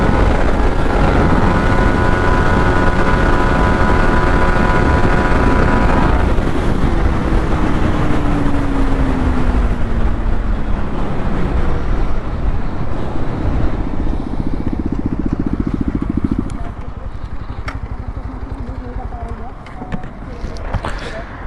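A Bajaj Pulsar 220F, a Bajaj Pulsar RS200 and a Yamaha MT-15 drag race. Loud, steady engine roar rises through the gears and then fades slightly as the bikes pull away, with people talking over it.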